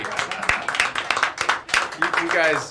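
Audience clapping and cheering for a group of eight-year-old kids at a home education event, with close claps and voices over it that rise into a louder, whooping burst near the end.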